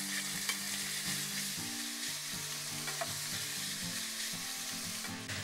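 Half a tablespoon of olive oil sizzling in a hot stone pot, a soft, even crackle running steadily at close range with faint occasional pops and no voices.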